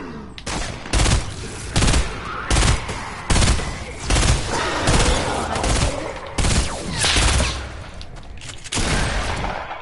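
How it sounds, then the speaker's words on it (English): Heavy video-game gunfire, with repeated loud bursts of automatic fire and rapid shots rattling over a constant battle din for the full stretch. "Oh, there's a massive gunfire right here."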